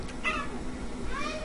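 A pet cat meows twice close by indoors, a short rising cry followed after a pause by a second, softer one, over a low steady room hum.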